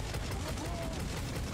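Gunfire from the video game Necromunda Hired Gun in a dense, continuous barrage of shots, loud and close, with no clear gaps between them.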